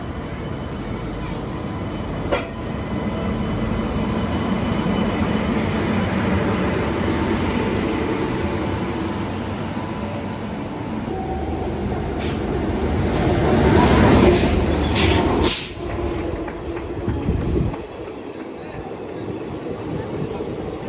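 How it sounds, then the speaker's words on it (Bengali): The Teesta Torsa Express, running from Sealdah to New Alipurduar, rumbles past at a station, a steady loud roar that swells toward the end before dropping away, with someone speaking over it. "দেখা হয়ে গেল তিস্তা তোর্ষা এক্সপ্রেসের সঙ্গে। এটা হচ্ছে শিয়ালদা থেকে নিউ আলিপুরদুয়ার যাচ্ছে।"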